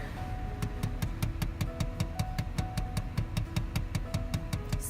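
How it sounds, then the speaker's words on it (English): A steady, rapid knocking inside a Chrysler Town and Country when the air recirculation is switched on: evenly spaced taps at about four per second over a constant blower whoosh, close and moderately loud. "this is the knocking sound you hear"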